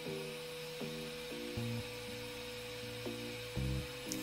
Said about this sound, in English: you'll be able to hear the difference between the motor running on the softwood and the motor running on the hardwood